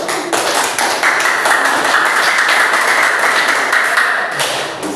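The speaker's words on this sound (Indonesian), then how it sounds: "tepuk tangan" A class group claps together in sustained applause, dense and fairly loud for several seconds before tapering slightly.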